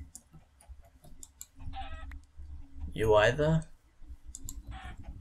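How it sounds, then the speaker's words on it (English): Game-style chicken clucks in the game UHC break through a steady run of clicking, with one louder burst of clucking in the middle and a person talking briefly. "Chickens, this is what I wanted."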